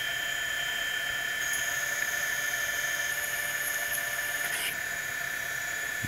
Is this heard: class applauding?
no